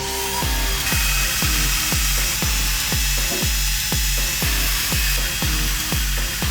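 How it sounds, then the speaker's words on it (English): An electric drill whirs continuously while drilling plastic, with a rhythmic series of sharp bursts roughly every half second as it bites into the material. "Nothing that a drill can't solve"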